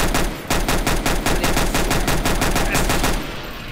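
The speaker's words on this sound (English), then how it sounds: "It looks like a rapid fire." Rapid automatic gunfire in the video game Garry's Mod: a loud, evenly spaced burst of about twenty shots over three seconds, with no talking.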